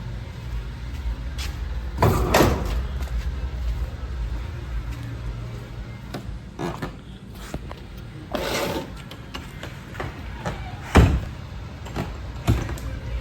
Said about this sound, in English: Better shut that door all the way and go ahead and grab that one too.